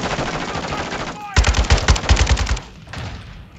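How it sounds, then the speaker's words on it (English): Automatic gunfire crackles in Call of Duty Modern Warfare II, a dense burst of rapid shots over game ambience with a brief lull, the player under fire from a rooftop approach. "Uh-oh, I'm getting shot."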